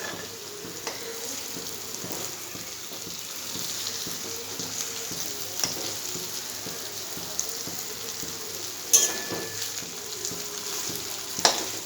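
Egg tadka fries in a pan over a gas flame, two eggs stirred in, giving a continuous close sizzling hiss with a few faint clinks.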